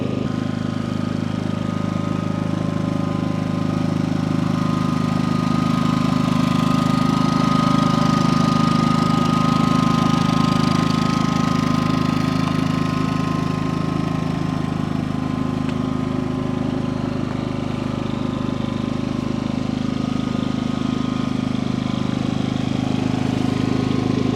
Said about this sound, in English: So we're gonna let this thing warm up for a few minutes